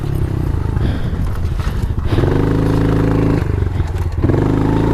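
Pit bike engine held at steady revs while riding in third gear, a loud, close, rattly buzz with a rising pitch as it pulls, plus wind and clatter throughout.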